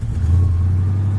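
A former police Dodge Charger SRT8 with a new engine fitted idles and revs up close, producing a loud, deep, steady rumble.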